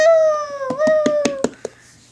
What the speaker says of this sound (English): that was Cherry's round of applause